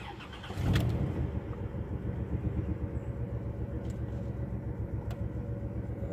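A 1995 Plymouth Voyager van with high mileage cranks and catches, a short loud start burst settling into a steady, slightly uneven idle that carries on close and alone.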